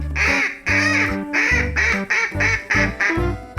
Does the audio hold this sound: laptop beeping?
no